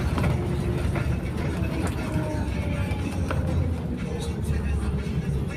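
Car driving along tram rails in Helsinki toward the Katajanokka terminal, a steady broadband rumble of tyres and engine with faint rhythmic rail clatter, continuous and close, while people talk over it.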